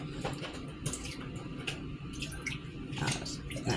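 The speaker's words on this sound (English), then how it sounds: "I'm going to add just a couple splashes of milk in there." A couple of quick splashes of milk are poured into a bowl of cracked eggs, giving a soft, wet liquid patter close by over steady kitchen background noise.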